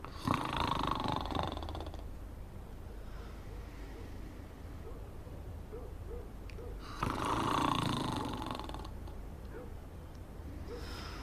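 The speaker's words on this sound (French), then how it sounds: "Est-ce que tu pourrais arrêter de ronfler?" Snoring from a sleeper, a steady series of soft rasping breaths repeating every second or so at moderate distance, with louder bursts of noise at the start and again midway.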